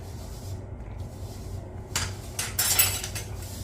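Clam noodle soup with short-necked clams is ladled into a bowl in a home kitchen, giving soft scraping and clinks of utensil against dish that grow louder toward the end over steady low background hum.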